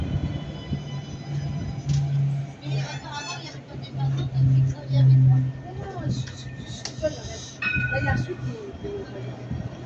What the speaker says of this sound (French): il y a déjà un autre tram qui arrive dans l'autre sens